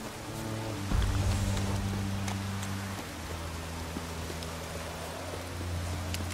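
Steady rain falls in the fantasy video game The Witcher 3: Hearts of Stone, a soft continuous hiss under a low droning hum, fairly quiet and with no talking.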